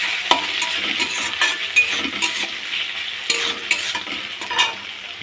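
Potato curry frying in oil with spices while being stirred, a loud, close sizzle under repeated scraping and clinking strokes of a spoon against the pan, with no talking.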